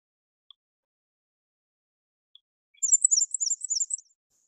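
A warbler's high, squeaky call repeated quickly in a short series, like a turning wheel, heard alone against silence.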